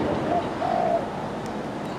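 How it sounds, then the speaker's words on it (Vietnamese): A freshly wild-caught spotted dove coos in a few soft, low, rounded calls close by, with a steady background hiss underneath. "Giang cườm quá khủng nha anh em."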